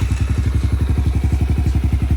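Kawasaki KLX110L dirt bike engine with a modified stock air box, running with a rapid, steady thumping putter up close, loud and even, with no voices.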